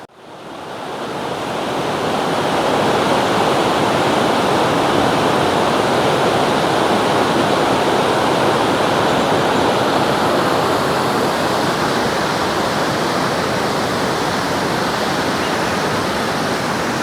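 A monsoon-swollen mountain river in the hills roars in a dense, unbroken rush of water, loud and close, rising quickly at the start and then holding steady with no voices.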